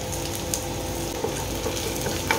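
Ingredients for a Marathi chicken rasa masala dry roasting in a hot pan, giving a steady close crackle and sizzle with faint scraping ticks throughout and no voices.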